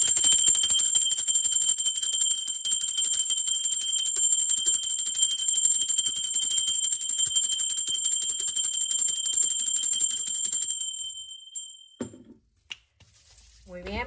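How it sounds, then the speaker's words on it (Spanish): A bell rung during a tarot reading gives a steady, bright, high ringing tone that holds for about ten seconds, then fades into a few softer, fainter chimes near the end. "Va campana."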